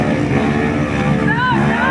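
Motorcycle engine running on a muddy track, a steady droning motor with a rising and falling pitch toward the end, loud and close, with voices talking over it.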